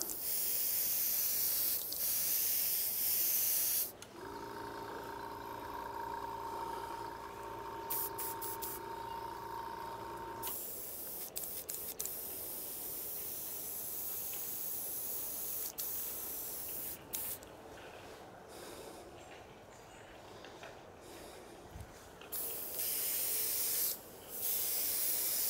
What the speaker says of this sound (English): using my airbrush, we're just going to apply